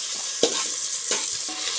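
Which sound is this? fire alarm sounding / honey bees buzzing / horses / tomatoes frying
tomatoes frying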